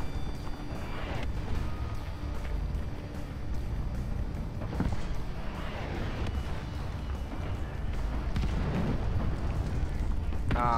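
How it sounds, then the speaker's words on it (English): Heavy artillery strike explosions in War Thunder Mobile, a tank battle game, form a dense, continuous rumbling barrage with repeated booms layered over a steady low roar, loud and sustained throughout. "Ah, they are using artillery strike."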